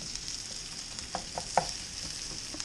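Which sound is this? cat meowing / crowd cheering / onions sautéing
onions sautéing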